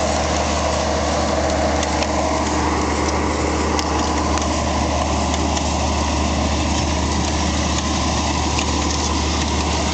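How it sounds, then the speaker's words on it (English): An Allis-Chalmers 200 tractor pulls an Allis-Chalmers no-till planter while planting sweet corn in a field. Its engine holds a loud, continuous drone for the whole stretch with no pauses or voices. "There, we're planting sweet corn with the Allis-Chalmers"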